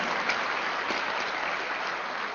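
Crowd clapping at an old pension restoration rally, a dense, even wash of applause that holds steady and fairly loud for the whole stretch, with no voices rising above it.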